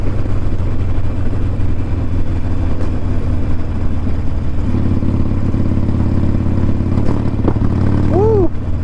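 A Harley-Davidson Iron 1200 motorcycle rumbles along at a loud, steady idle-to-cruise drone, then lets out a couple of sharp, brief backfire pops near the end, close to the rider.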